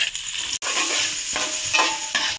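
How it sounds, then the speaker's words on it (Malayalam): Two small chopped onions and a handful of shallots sauté in a pan with a loud, bright hiss, broken by short stirring scrapes and a brief gap; no talking. "രണ്ട് ചെറിയ രണ്ട് സവാളയും അഞ്ചാറ് കൊച്ചുള്ളിയും കൂടെ അരിഞ്ഞ് വെച്ചത് ഇട്ട് കൊടുത്ത് വഴറ്റാം"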